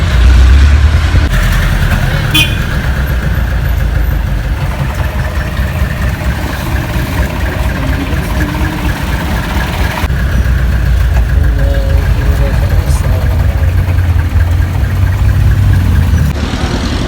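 A jeepney's engine drones steadily throughout a ride toward SM Legazpi in Bicol, a continuous low rumble with cabin rattle and road noise, and faint voices scattered underneath.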